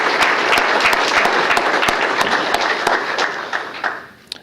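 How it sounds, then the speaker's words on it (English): An audience at a mayor's awards ceremony breaks into loud, sustained applause, dense clapping that stays steady for several seconds before thinning out into a few scattered final claps. "let's have a round of applause for all those individuals"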